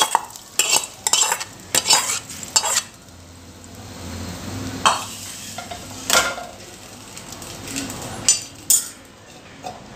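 A spoon stirs a fried onion and chilli tempering into cucumber yogurt pachadi, giving repeated close scraping and clinking strikes against a bowl in an uneven rhythm, with a faint sizzle between them.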